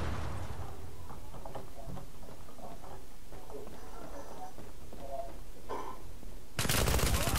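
Gunfire pounding a house in the online shooter Zula, with bursts of rapid shots and mechanical clatter under excited player chatter, ending in a loud, dense blast of noise.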